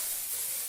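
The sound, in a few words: hairspray being sprayed on hair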